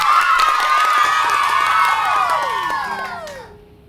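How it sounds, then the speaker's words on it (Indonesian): Loud crowd cheering and clapping at a school musical performance, with excited shouts and whoops, fading out toward the end. "Sekali lagi beri tepuk tangan untuk siswa dan siswi Yayasan Prima Unggul."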